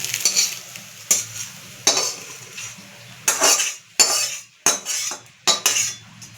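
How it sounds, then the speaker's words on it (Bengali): Eggs seasoned with black pepper are scrambled in a frying pan, with close, repeated bursts of a utensil scraping and clinking against the metal over a soft, steady sizzle, and no voices. "একটু গোলমরিচ গুঁড়ো দিয়ে এটাকে আমি ভালো করে ঝুড়ো করে নেব।"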